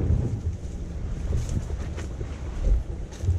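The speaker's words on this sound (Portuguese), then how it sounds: "tá batendo uma rajada de vento do nada aqui" Strong wind gusts batter the microphone on a beach at Bertioga where a fishing boat rests on the sand, a rough, rumbling roar that swells and dips over a few seconds with no voices.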